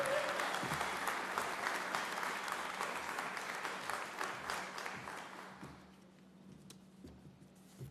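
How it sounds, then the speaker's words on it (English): An audience at a Bronx infrastructure event applauds the founder of Loving the Bronx, a dense roomful of clapping that holds steady for several seconds, then thins and fades to quiet. "Please, a big round of applause for the founder of Loving the Bronx"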